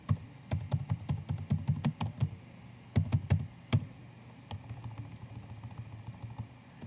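Fingers type on a computer keyboard in quick bursts of clicky keystrokes, pausing briefly between runs, close and clear with no speech over them.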